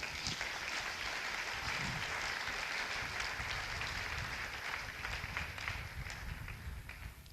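A church congregation claps and cheers in sustained, dense applause, a steady crackling roar of many hands that fills the room and slowly tapers off toward the end, with voices mixed in.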